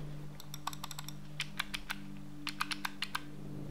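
Clicky buttons on a video editing keyboard are pressed in quick, crisp bursts of distinct clicks, close and fairly quiet, with short pauses between the runs.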